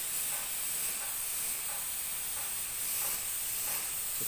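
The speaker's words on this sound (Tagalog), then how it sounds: "Set lang po natin yung ating spray gun sa pointed na. Hinaan po natin hangin, mga 10 psi lang po siguro, 8 psi." A paint spray gun set to a narrow pattern sprays at low air pressure, around 8 to 10 psi, for a small retouch job, giving a steady, close, continuous hiss with no talk over it.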